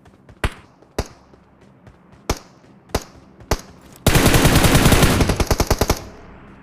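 Gunfire in BGMI, a mobile battle royale game: several single loud shots spaced out, then a dense rapid automatic burst of roughly two seconds, with no talking.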